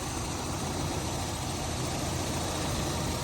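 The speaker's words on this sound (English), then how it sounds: "we've got our electric fuel injected 4-cylinder Toyota engine" A 1987 Toyota one-ton pickup's electronic fuel-injected 4-cylinder engine idles steadily up close, a constant broadband rumble with no speech and no change in pace.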